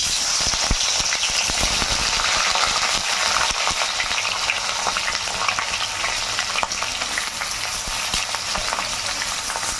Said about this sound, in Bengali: এবারে এই তেলের মধ্যে ম্যারিনেট করা চিকেনগুলো না একটু ভেজে নেব।